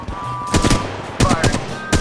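A weapon fires in Apex Legends Mobile, producing three loud, close bursts of rapid gunfire with short gaps between them over two seconds.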